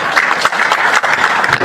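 Dense applause from an audience at a Banteng Muda Indonesia organisational event in North Sumatra, a steady wash of many hands clapping close and loud for the whole short stretch.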